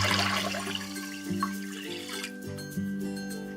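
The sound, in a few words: pouring water into pot of rice for congee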